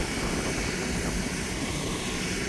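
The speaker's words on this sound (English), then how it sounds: "The wind is absolutely crazy." Strong wind gusting outdoors near a church steeple, a loud steady roar blowing across the whole stretch with no talk over it.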